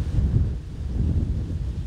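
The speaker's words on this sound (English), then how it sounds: "it is such an extremely windy day today" Strong wind gusts through an outdoor garden on an extremely windy day, a steady low roaring buffet against the microphone that swells and eases for about two seconds with no one speaking.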